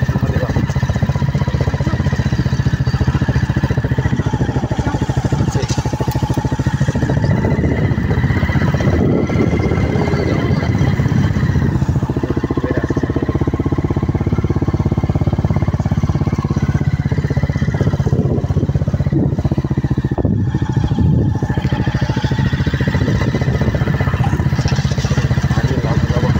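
A motorbike riding along a forest track in a large jungle, its engine droning steadily and loudly close by for the whole stretch, with rough rumbling from the ground.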